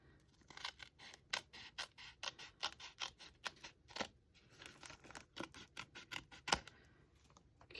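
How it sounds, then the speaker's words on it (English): Sealed paper envelope being sliced open across the top with scissors in a quiet room, a close series of soft, rhythmic snips and papery scratches with brief pauses between cuts. "the next thing I'm going to do is just lightly cut the opening at the top"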